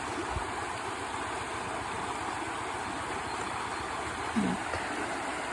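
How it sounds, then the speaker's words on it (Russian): A cold, fast-flowing river on a stony Estonian shore near Lahemaa National Park, a steady broadband rushing wash heard close and continuous throughout. "Но ощущение реально такой горной речки."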